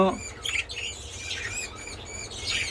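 A pair of pet budgerigars, a yellow female and her mate, chirp in short bright bursts and warbles near the microphone, with quiet rustling between calls.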